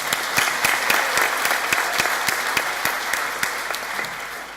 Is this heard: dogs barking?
no